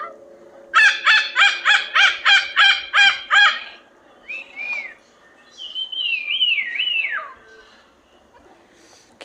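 A hyacinth macaw at a parrot attraction in Pigeon Forge, Tennessee, gives a fast run of about eight loud, harsh calls, then a few shorter squawks and one drawn-out wavering screech.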